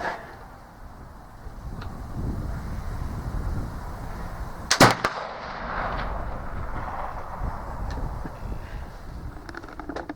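A Euroarms Kentucky flintlock rifle fires once without a wad, a single sharp report midway through, surrounded by steady outdoor background noise.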